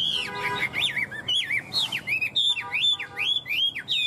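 A tamed Chinese hwamei songbird sings loud, clear, looping whistled phrases that rise and fall in quick succession, close by and continuous, with no voices over it.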